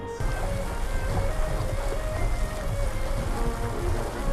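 A boat sails across the sea in the Blox Fruits game, a steady broadband rush of water and wind with a faint tonal hum, constant and close, without voices.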